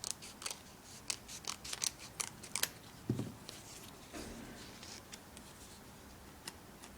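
Scissors cutting a bit more off: a quick series of crisp, close snips and clicks, fairly quiet, thinning out toward the end, with no talk.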